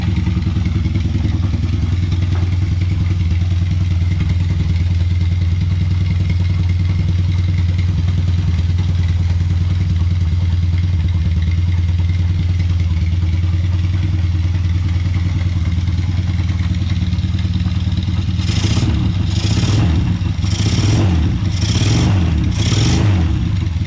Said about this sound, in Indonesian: Sekarang kita tes dari Honda Revo dulu.